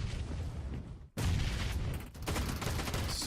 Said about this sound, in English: So many nades just popping off all over the place